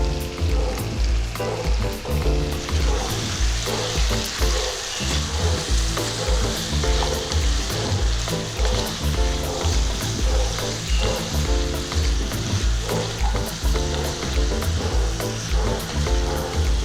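Ground coriander and Kashmiri chilli powder frying in oil for chicken surua, a loud, dense, continuous sizzle with rhythmic stirring and scraping close by, without pause.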